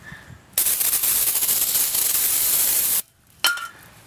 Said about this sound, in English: I'll go ahead and spray some more brake cleaner on it